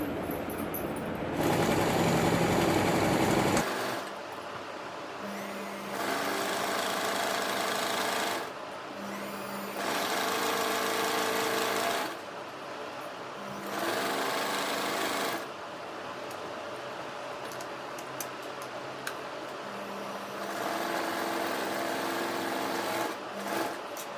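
A sewing machine stitching saree neck pieces onto canvas runs in several loud bursts of steady whirring stitching, separated by short quieter pauses, with no talking.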